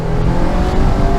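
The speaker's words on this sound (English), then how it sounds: "rev it out." A Mazda MX-5 engine revs hard through a turn, a loud, close, continuous buzzing drone with a steady pitch over a brief moment and no talking.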